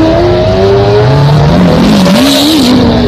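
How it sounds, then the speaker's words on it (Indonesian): A toy red Lamborghini race car gives off a loud, continuous motor whine that rises and wavers in pitch throughout, with engine-like revving and no talking. "di sini juga ada mobil balap. Ini Lamborghini warna merah."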